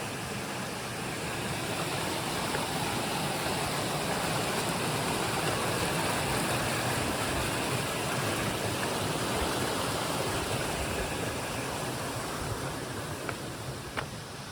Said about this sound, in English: Lots of water here.